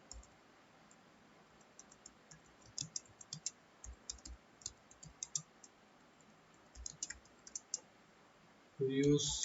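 Computer keyboard being typed on while entering an HTML program in Notepad: quiet, irregular clicking keystrokes in short bursts against a low background hiss, ending in a louder thump.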